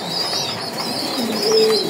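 Racer pigeons at close range give low, soft cooing calls in a short burst, with a faint background hum and no talking.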